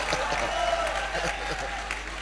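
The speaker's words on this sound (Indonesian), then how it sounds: "Kita berikan tepuk tangannya mereka." A church congregation applauds at a 2002 service in Indonesia, a moderate, steady clatter of many hands clapping in a large room, somewhat distant.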